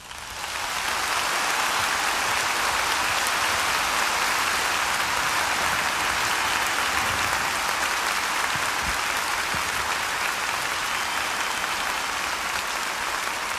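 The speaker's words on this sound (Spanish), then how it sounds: "que les demos un aplauso muy fuerte." Loud, dense applause from a large audience for an orchestra at an Enrique Guzmán 50th-anniversary concert, a steady wash of many hands clapping that swells in within the first second and holds evenly to the end.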